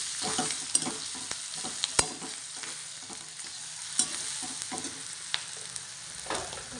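Flat bean curry fries as black masala and garam masala are mixed in, a soft continuous sizzle punctuated by a spoon's scrapes and taps against the pan, close-up and fairly quiet, no speech.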